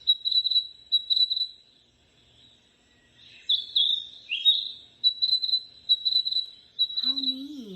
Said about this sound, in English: it sounds like the birds are talking to each other. Like one's closer and some are farther.